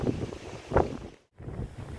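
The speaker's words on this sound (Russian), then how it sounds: "Был очень дичайший ветер в этот день." Strong gusting wind buffets the microphone outdoors by the Salavat Yulaev monument in Ufa, roaring in loud bursts with a brief lull in the middle.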